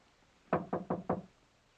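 Four quick knocks on a door to a study in an old radio mystery drama, evenly spaced raps, faint and close, with silence around them.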